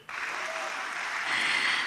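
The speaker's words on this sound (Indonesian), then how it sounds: "tepuk tangannya yang lebih meriah nanti ya" Audience applause for university students at an indoor event, a dense steady clapping that starts abruptly and swells slightly louder toward the end.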